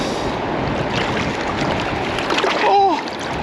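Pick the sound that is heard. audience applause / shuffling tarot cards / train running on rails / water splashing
water splashing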